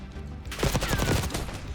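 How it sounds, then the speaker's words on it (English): Gunfire during a Black Ops 6 multiplayer match, a quick run of sharp shots at moderate loudness with no talking over it. "I say that as I'm getting sniped."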